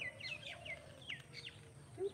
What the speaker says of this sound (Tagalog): Couple birds.